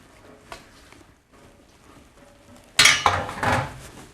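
Cooked soba noodles tipped back into a metal cooking pot, making a sudden burst of clattering, scraping metal and wet slapping after a quiet stretch with faint clinks.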